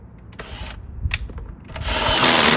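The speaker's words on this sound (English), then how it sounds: "then you just need to drill some holes right around the base" A power drill bores drainage holes around the base of a planter in a backyard DIY project, with short whining bursts that build into a loud, sustained grinding drill run at close range.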